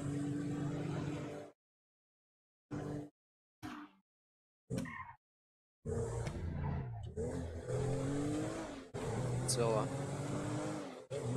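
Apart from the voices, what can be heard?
car driving in the video game GTA Online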